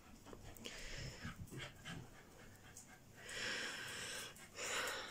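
A dog pants heavily after a walk in hot weather, quick rhythmic breaths and snorts close by, with a faint voice in the background.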